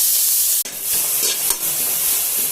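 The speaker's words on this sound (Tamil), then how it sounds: "எண்ணெய் சூடானல இந்த வாழைப்பூ போட்டு வதக்கிக்கலாம்" Chopped banana flower sautéing in hot oil for rasam, a bright close sizzle with stirring scrapes and a sharp clatter as the pieces are moved around the pan.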